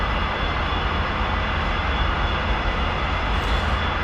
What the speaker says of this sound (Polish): Jest to 4-suwowy, średnioobrotowy silnik wysokoprężny z turbodoładowaniem